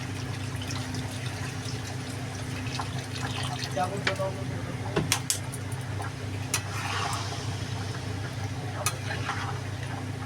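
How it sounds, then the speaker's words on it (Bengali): Water is poured into braised chicken curry in a pan, a soft steady splashing and filling under a low kitchen hum, with a few light clinks of utensils as someone talks. "জল দিয়ে দেবো এবার"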